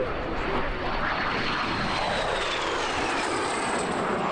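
A T-33 Shooting Star classic jet flying at the EAA AirVenture Oshkosh 2018 airshow, a steady loud jet roar with a sweeping whine as it passes.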